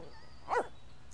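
A single short dog bark from The Sims 3 rises briefly over a quiet game background hum, moderately close and lasting well under a second.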